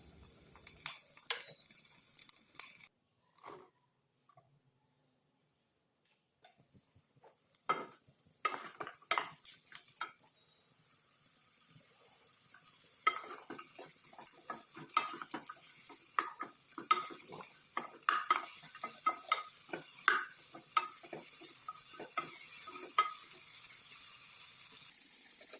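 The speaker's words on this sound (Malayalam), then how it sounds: "അതിലേക്ക് നമ്മൾ കട്ട് ചെയ്ത് വെച്ചിട്ടുള്ള വഴുതനങ്ങ ചേർത്ത് കൊടുക്കാം." Cut brinjal tossed into a pan of sautéed onion and garlic in olive oil, with a quiet sizzle under scattered spoon scrapes and clinks against the pan, sparse at first and then busier and steadier.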